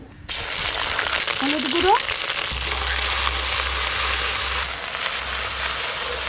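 Ginger-cumin paste sizzles in hot oil with tempered bay leaf, dried chilli and whole garam masala, a steady close frying hiss with a low rumble partway through, under brief speech.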